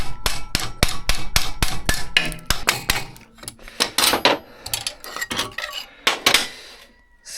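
Dozens of sharp, close metallic hammer blows drive a stuck part out of a VW 1776 buggy engine. They come in a rapid, steady run at first, then turn more irregular, with ringing clangs between strikes.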